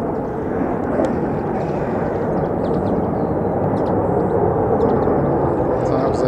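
USAF F-15 fighter jets returning to RAF Lakenheath, a loud continuous roar of jet engines filling the air as they fly past at a distance, with faint voices nearby.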